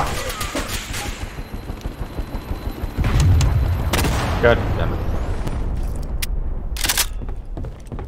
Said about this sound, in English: God, a bombing right outside